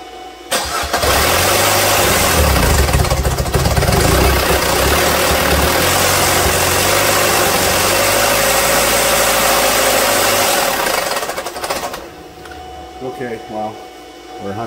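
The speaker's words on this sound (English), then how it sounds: "So I'm gonna start this up for a few seconds with the oil pressure gauge on it" A 2015 Chevrolet Trax 1.4 engine with no oil pressure cranks, fires and settles into a loud steady idle for about ten seconds, then shuts off, heard up close.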